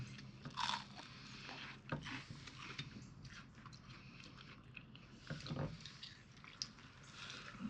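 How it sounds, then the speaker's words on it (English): Deep-fried elderberry flowers bitten and chewed off their stems, giving close, quiet crunches and wet chewing with a few sharper bites standing out. "you just nibble off the fried part from the stems, kind of like this"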